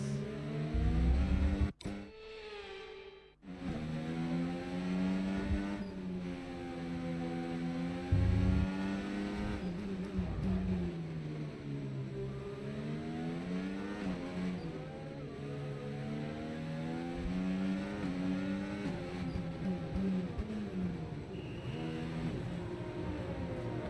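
Formula 1 race car engines in the video game F1 25 whine loudly and steadily, with pitch rising and falling through gear changes. A brief thump and a cut-out come near the start.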